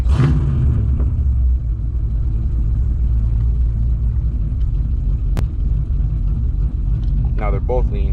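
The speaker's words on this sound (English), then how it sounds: "I'm gonna hit the throttle." A car with fuel issues runs loudly up close, a deep steady engine rumble swelling slightly as the throttle is pressed, with a brief voice near the end.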